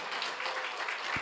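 A congregation clapping together during a Sunday morning worship service in a Korean church: steady, dense applause from many hands, brief and fairly even in loudness.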